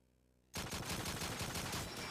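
Burst of automatic gunfire from hipfiring in Call of Duty 2, starting abruptly after a short quiet moment and continuing as a loud, rapid, unbroken stream of shots.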